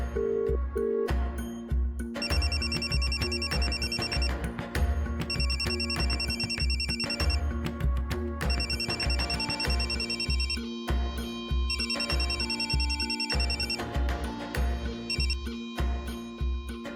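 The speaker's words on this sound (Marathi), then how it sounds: "हा आदित्य ना कधीच वेळेवर फोन उचलत नाही" A telephone rings unanswered in a Marathi TV serial scene, a repeating electronic ringtone in regular bursts, set over a steady loud music backing throughout.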